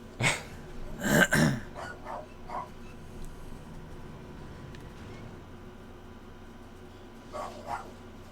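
A dog barks a few times during a game stream, short sharp yips at the start and again near the end, moderately loud against a quiet background with faint room noise between.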